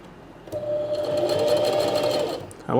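Sewing machine running a 3 mm stitch length while sewing a small coin purse, a steady close whirring hum of fast stitching that starts, holds for about two seconds, then stops.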